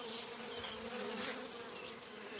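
A honeybee swarm, shaken from an apple tree, crawls into a swarm trap with a steady, dense buzzing drone that fills the whole stretch at moderate volume, with no voices over it.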